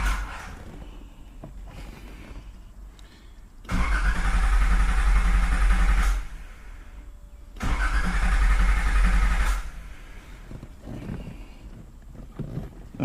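A Nissan Z car's starter cranks in two loud, sustained bursts of roughly two seconds each, separated by a quieter pause, as the engine turns over without firing, heard up close with no talking.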